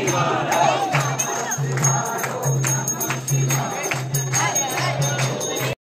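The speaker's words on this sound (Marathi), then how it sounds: "आज थोडी गर्दी आहे, श्रावण चालू आहे म्हणून," Dense crowd of devotees at Trimbakeshwar temple during Shravan, a steady murmur of many voices with occasional shouts and a low rhythmic hum pulsing underneath, continuous and fairly loud throughout.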